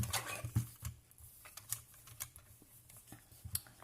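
A mini guillotine trims a photo card with quiet, irregular clicks and light scraping taps, close and faint, with no voices.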